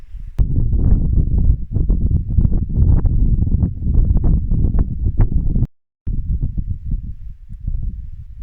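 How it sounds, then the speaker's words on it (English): Strong wind in the Scottish mountains buffets the microphone with a heavy, continuous low rumble and gusting roar, cutting out briefly once before returning. "it's just too windy where we are"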